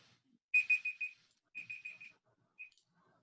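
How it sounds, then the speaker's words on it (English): An electronic alarm beeps in two clusters of four quick high-pitched tones, with a single short beep after a pause; thin and fairly quiet against a silent background. "Beep, beep."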